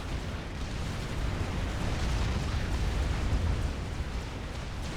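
Artillery and missile launchers fire in the real-time strategy game Supreme Commander: Forged Alliance, a dense, continuous rumble of overlapping booms and blasts that holds steady throughout with no voices.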